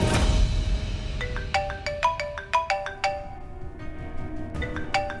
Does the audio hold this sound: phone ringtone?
yes